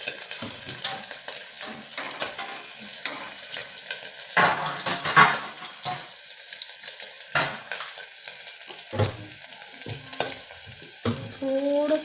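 Food sautéing in hot oil in a pan for a fasting-day rice dish, a steady sizzle with intermittent stirring and utensil clatter, close and moderately loud, with no talking.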